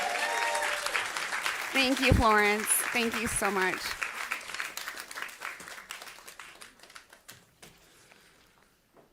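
Audience applause for chef Florence, dense clapping under a near voice giving thanks, then thinning into scattered claps that fade over the last seconds.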